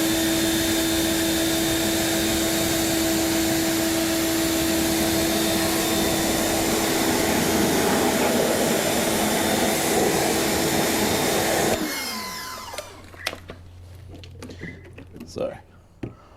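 A pressure water spray rinses a car wheel and tyre in a steady, loud, close hiss that runs continuously before cutting off, leaving scattered drips and small knocks.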